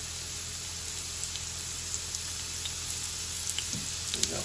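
Mushrooms sizzling in a shallow layer of oil in a cast iron skillet, a close, even crackling hiss with scattered small pops and a few soft stirring knocks, no voices.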